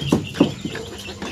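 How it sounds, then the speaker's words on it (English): Chinese Silkie chickens cluck at feeding time, three or four short soft clucks close by in just over a second. "ito naman guys yung papakain natin sa Chinese silky natin"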